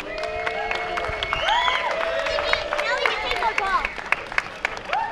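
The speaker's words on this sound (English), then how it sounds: "Give Steve a big round of applause," A crowd claps and cheers for a contestant at a chili cook-off, a steady wash of applause running throughout with bright whoops and whistles rising above it and voices mixed in.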